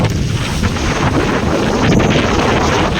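Strong wind at sea roars steadily and loudly against the microphone from a boat, a dense unbroken buffeting rush with no voices.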